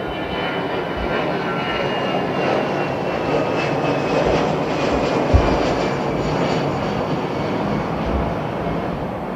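A jet airliner departing runway 09R at London Heathrow Airport gives a continuous, loud, broadband engine roar that holds steady throughout, with a faint voice underneath.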